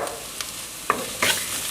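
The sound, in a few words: sautéing onions in a pan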